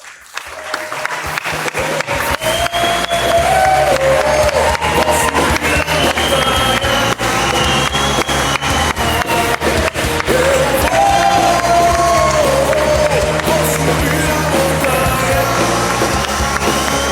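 A church congregation at a Sunday service stands and applauds new members as they arrive, with steady, loud clapping mixed with cheers and shouts that swells quickly and carries on for the whole stretch.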